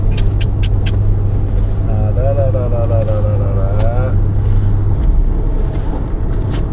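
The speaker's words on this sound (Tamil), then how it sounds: "இது வரைக்கும் டிராஃபிக் இன்னுமே இருக்குது." Road traffic in a Malaysian traffic jam makes a steady, close engine rumble and tyre noise, with a vehicle's rising drone passing midway and people talking over it.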